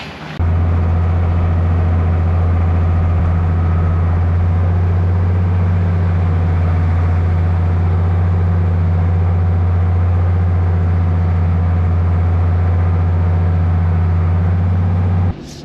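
A farm tractor engine runs steadily nearby, a loud, constant low drone with a deep hum and no change in pace from start to finish, alone without talk.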